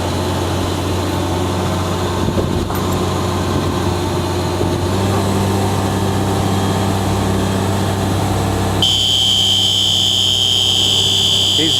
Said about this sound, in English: you can hear the alarm as it first deployed